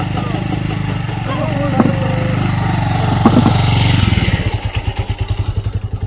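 A motorbike engine labors at a low, steady chug while crossing a river in the Sundarbans, with a couple of knocks, then breaks into a slower, pulsing throb as it strains near and loud.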